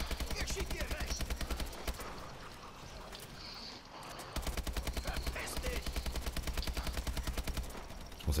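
Rapid automatic gunfire from Call of Duty Advanced Warfare's Exo Zombies mode on the Carrier map rattles in long continuous bursts, pausing briefly in the middle before resuming, loud and dense in the foreground.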